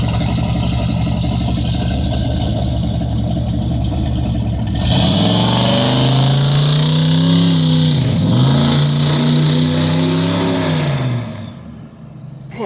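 A Chevy C10 pickup fitted with mufflers rumbles at idle, then revs hard and loud, holding a deep, rising engine note with a brief dip and second climb before easing back toward idle.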